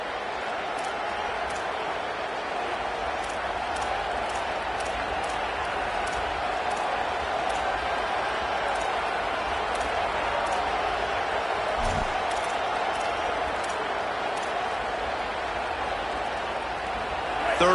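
A stadium crowd at a college football game in Death Valley keeps up a dense, steady roar during a third down, continuous and broad like heavy noise, with a commentator talking over it.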